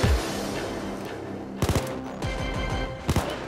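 Snipers fire bursts of gunfire in the Payday 2 video game, with rapid clusters of sharp loud shots arriving in two or three volleys over a steady background of game noise.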